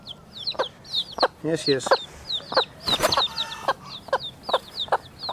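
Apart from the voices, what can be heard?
young rooster chick crowing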